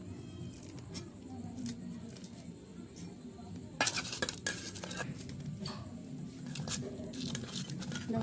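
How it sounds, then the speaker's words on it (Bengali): A knife chopping green chillies on a cutting board in a home kitchen, with light irregular taps and clatter and a louder burst of rapid cuts partway through, over a low background hum. "এবারে মামা লঙ্কা কাটবে এখন।"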